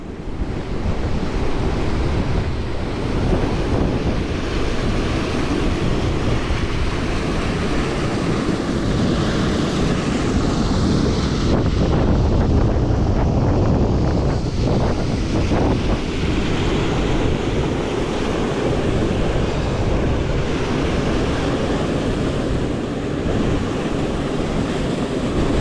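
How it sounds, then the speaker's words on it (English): Talla waterfalls pouring through rocks and dropping down, a constant loud rushing roar of water mixed with heavy wind buffeting the microphone, no voices. "the main waterfalls are just there, where they go through those rocks and then drop down"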